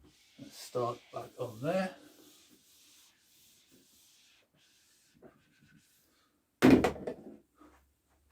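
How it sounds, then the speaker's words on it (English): Writing being rubbed out on a board during a maths lesson: brushing, wiping strokes alongside someone speaking briefly before and after. "now let's rub this out, carry on over here"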